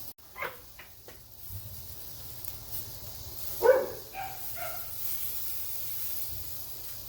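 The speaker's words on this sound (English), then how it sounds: "Excuse the dog barking." A dog barks a few times at a distance while a porterhouse T-bone steak grills, the barks short and spaced over a soft steady hiss.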